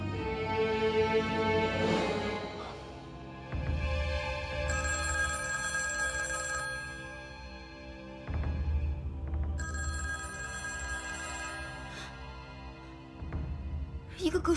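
A telephone bell rings in a Republic-era Chinese romance drama, its repeated tonal rings mixed with background music rather than standing alone, with no talk over it.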